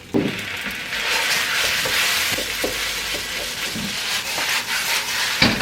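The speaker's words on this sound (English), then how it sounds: "Stir fry it first, okay?" Rice noodles for combination hofun stir-fry in a wok with mushroom soy sauce, giving a loud, steady sizzle and hiss broken by scraping, tossing strokes, up close and without speech.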